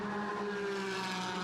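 A race car at Jerez circuit during the Iberian Racing Festival drones past with a steady engine tone, heard at a distance and fairly faint, with no talk over it.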